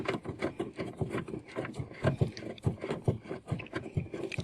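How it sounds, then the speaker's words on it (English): Rear lamp screw on a Ford EcoSport being turned back in by hand, giving close, rhythmic scraping and rubbing strokes that repeat steadily and fairly loud. "you simply just screw it back in"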